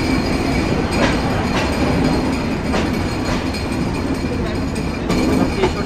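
The Chilahati Express passenger train runs steadily near the Ishwardi bypass, with a constant loud rumble, rhythmic wheel clatter and occasional squeal, heard from on board.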